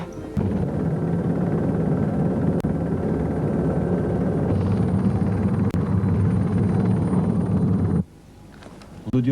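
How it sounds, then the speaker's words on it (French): A helicopter drones loudly and steadily overhead near an airport runway, its rotor chop holding for about eight seconds before it cuts off abruptly. Faint background noise follows. "Oh Dieu, mais qu'est-ce qu'il fout là, cet hélico?"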